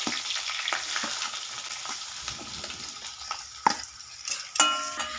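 Onions sautéing with a green chilli in cold-pressed sesame oil, a steady close sizzle broken by sharp scrapes and clinks of a stirring spoon against the pan, with no voices.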